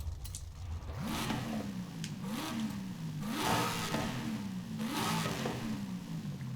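Supercharged V8 car engine in Forza Horizon 5 revving repeatedly, several rising throttle blips that fall back each time, heard alone.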